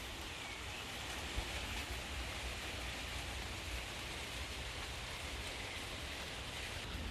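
Rain falls steadily outdoors over an orchard of fruit trees, a dense, even hiss of drops that holds constant and moderately close throughout, with no voices.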